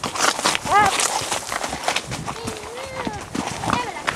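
A rain-averse pony hurrying home in wet weather on a trail ride, rearing and jumping, its hooves clopping in a quick irregular patter with short whinny-like calls, all under outdoor noise and a rider's voice.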